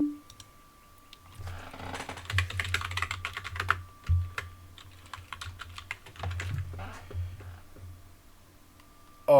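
Fingers typing a package-install command into a terminal on a Zorin OS computer keyboard, a rapid run of close, crisp key clicks with brief pauses and a final heavier keystroke.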